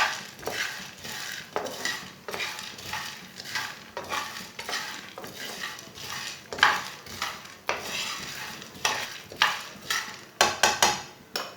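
Chickpeas being dry-roasted over low heat in a pan for panjiri laddoos, with a spoon scraping and stirring in a steady run of close, clattering strokes and faint sizzling, punctuated by sharper metallic knocks near the end.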